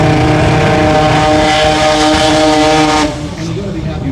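A drag racing car doing a burnout in the burnout box at a drag racing event: a loud, sustained roaring engine with dense harmonic drone that drops sharply near the end, then settles to a lower rumble.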